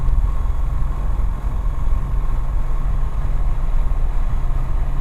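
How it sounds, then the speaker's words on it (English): The piston engine of a TB20 light aircraft runs on the ground before takeoff, giving a loud, steady, close-up drone with a deep rumbling low end and no voices. "Engine looks happy, off we go."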